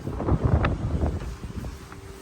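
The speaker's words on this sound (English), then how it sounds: "Starting to get pretty windy." Gusty westerly wind buffets the microphone outdoors beside a Tesla Model 3 on a cross-country road trip, producing low rumbling thumps and irregular bursts that ease off slightly toward the end.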